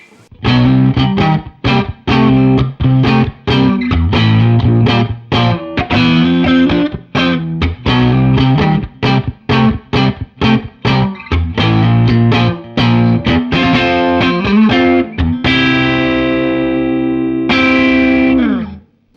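Fender American Professional Classic electric guitar on its middle pickup, run through effects pedals, plays a loud, rapid run of distorted, chorused chords and notes, ending on two long ringing sustained chords, with no talking.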